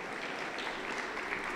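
A church congregation at a Pentecostal service claps together, a dense, even wash of applause that holds steady for its short span, moderately loud and close.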